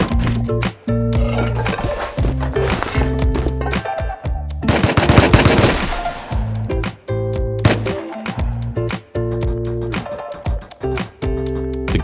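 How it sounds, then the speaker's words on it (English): Gunfire from the survival video game Rust at an old north base: rapid automatic bursts and single shots crack loudly in dense clusters, with brief pauses between volleys and no talking. "The gunshots raged at the old north base."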